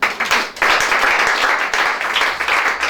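A congregation at a church service applauds in steady, dense clapping that is loud and close and fills the whole stretch without pause.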